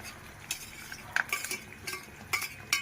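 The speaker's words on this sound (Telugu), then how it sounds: "సో ఇప్పుడు మొత్తం కరివేపాకు వేసేసుకుంటాను నేను." Curry leaves dropped into hot oil for homemade hair oil, giving a quiet, patchy crackle with a few brief bright spurts of sizzle and stirring clinks, no voices.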